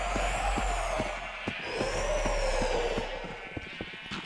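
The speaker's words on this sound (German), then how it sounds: "So, wir spawnen hier einfach mal ein paar Schafe." Sheep bleating in the video game Minecraft, several wavering bleats overlapping one another over steady background noise and a run of short ticking clicks, no talk.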